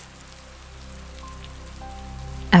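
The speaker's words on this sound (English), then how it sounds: "The sound of the rain, the only thing calming my nerves." Rain falls quietly outside a cabin as a soft, steady patter, gradually swelling before a sudden louder burst at the very end.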